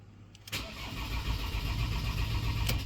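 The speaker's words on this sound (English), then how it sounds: "Turn the ignition off and turn it on again." A Ford Transit van engine cranks and fires up after a short quiet moment, then settles into a steady, close rumbling idle with no talk.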